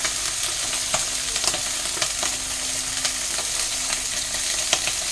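Fish sizzles steadily in a pan with spice paste, a dense continuous frying hiss broken by regular light scrapes and taps of stirring, with no voices.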